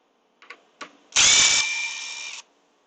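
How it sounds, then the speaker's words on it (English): A power drill backs screws out in a few short taps followed by one steady whirring run of about a second, close and loud, alone. "I'm just taking screws out now"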